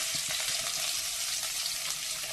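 Onions fry in coconut oil in a pan with a steady, dense sizzle and light crackle, close and continuous with no talking.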